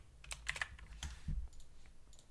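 Fingers type a comment on a computer keyboard, a run of quiet, close, irregular key clicks with a few slightly heavier strokes and no talking.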